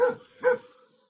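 A rural farmhouse dog in the mountains gives two distinct barks about half a second apart, moderately near, with no talk over them.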